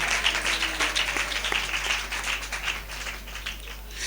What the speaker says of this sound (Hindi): ताली बजाकर हम उसी परमेश्वर को धन्यवाद करें।